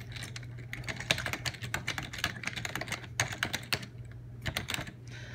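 Rapid, close clatter of keys as an email address is typed on a computer keyboard, with irregular bursts and short pauses over a low steady hum.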